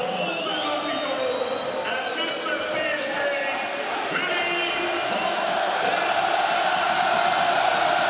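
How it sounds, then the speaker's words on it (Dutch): A big stadium crowd cheers loudly and steadily at a PSV versus sc Heerenveen football match. The roar builds toward the end, and a voice can be heard over the noise. "En groot gejuich bij het noemen van de naam Willy van der Kuilen"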